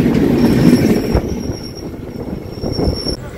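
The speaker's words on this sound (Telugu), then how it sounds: "మనం ట్రాక్ చేంజ్ అవుతున్నామండి" Indian passenger train on a Charlapalli to Tirupati special run, changing tracks near Malkajgiri: loud close rumble of rolling wagons with a sustained high wheel squeal running across most of the stretch, wind buffeting the microphone.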